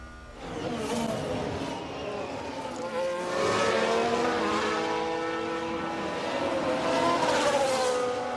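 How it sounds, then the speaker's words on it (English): Formula 1 engines scream around Abu Dhabi in F1 Manager 22, a loud, continuous overlapping drone of rising and falling pitches as several cars pass. "Car sounds good, everything looking good."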